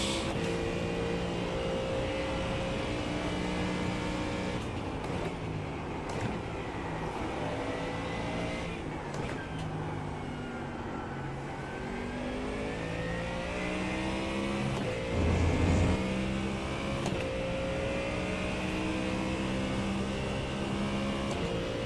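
A Ford Mustang race car engine in a sim racing game drones steadily at high revs for the whole stretch, with pitch rising and falling through gear changes and a brief deeper burst midway.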